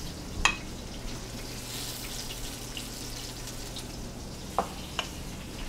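Julienned red onions with oil and kosher salt sizzle softly in a pan, a quiet, even crackle with a couple of sharp clinks near the start and end.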